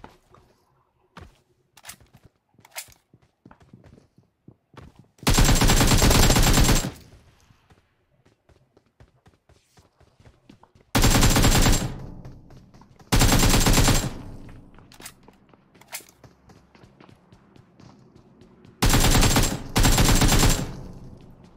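Automatic rifle fire in PUBG Mobile on a new map, coming in several loud sustained bursts separated by quieter gaps filled with scattered footsteps and small clicks.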